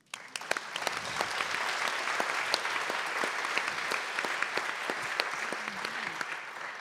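Steady audience applause at a French business conference debate, many hands clapping at a constant moderate level from the first moment to the end, with no speech on top.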